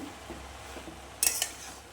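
Food scraped and turned over in a pan with a metal utensil: a low steady background, then a brief loud clatter of spoon against the pan near the end.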